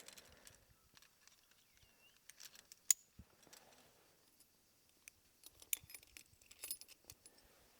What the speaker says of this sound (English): I'm going to clip this into this bolt here.